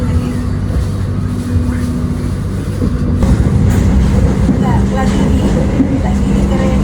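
Cabin rumble inside the KA Sembrani train rolling past rice fields, a steady low clatter and drone with a faint tonal hum that grows slightly rougher midway.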